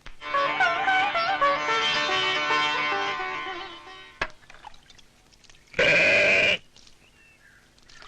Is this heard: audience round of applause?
no